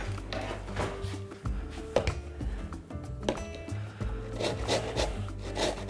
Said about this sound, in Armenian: Նարինջներից մեկի կլեպը քերում ենք